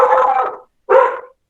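A dog barks twice in a room, two fairly loud, close bursts separated by a short pause, with no talking during the barks.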